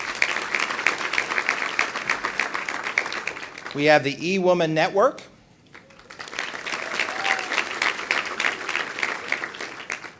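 Audience applause at the 2011 ATHENA Awards, a steady wash of clapping through most of the span, briefly broken by someone speaking over a quieter gap before the clapping swells back.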